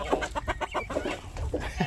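Chickens and roosters in a chicken yard cluck in a busy, overlapping stream of short calls, steady and fairly close, with no talk over them.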